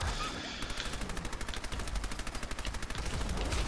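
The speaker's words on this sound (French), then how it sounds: "j'essaie de le tuer avec un espèce de fusil mitrailleur appelé Thompson en américain" Rapid bursts from a Thompson submachine gun in Fallout 4, a steady rattling string of shots at moderate distance after a short lull, with no talk over it.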